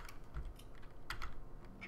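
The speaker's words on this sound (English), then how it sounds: "Bad news is you can still hear the keyboard" Quiet, close computer keyboard typing during a Resident Evil 4 game session: a loose cluster of soft key clicks over a low background hiss, with no voices.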